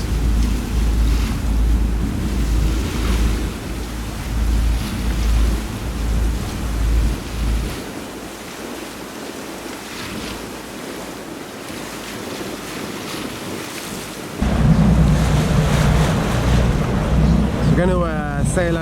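A luxury yacht cruising on the Bosphorus in Istanbul, with wind buffeting the microphone over a low engine rumble and splashing waves. The roar eases midway, then returns louder toward the end.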